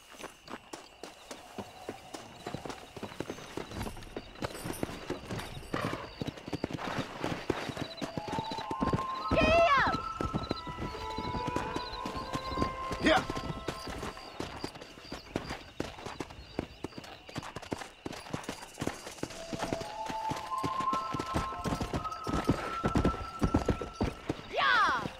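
Horses clip-clopping along in Red Dead Redemption, hoofbeats steady and close through most of the stretch, with occasional whinnies and game music underneath while voices talk over the ride.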